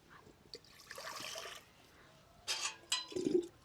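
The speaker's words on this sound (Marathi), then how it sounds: "चुलीवर आता कुकर ठेवून घेऊया कुकरमध्ये पाणी टाकून घेऊ" Water is poured in short bursts, splashing and trickling into a metal pressure cooker on a wood-fired stove, fairly quiet with gaps between pours.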